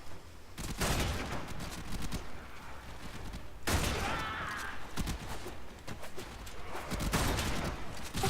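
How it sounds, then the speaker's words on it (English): Dense gunfire from the video game Warframe: continuous bursts of rapid shots and explosive effects that barely let up, loud and layered throughout. "Stop shooting me for just a second."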